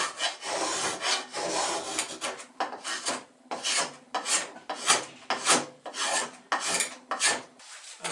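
A wood rasp files the wooden hull of a small toy rowboat in a steady run of close, scratchy strokes, each rasping pass separated by brief pauses, with no talking.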